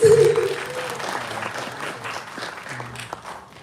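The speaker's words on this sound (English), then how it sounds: "Let's give a round of applause, guys." Audience applause at a freshers' meet in Delhi, a burst of clapping that starts strong and tapers to a scattered patter over a few seconds.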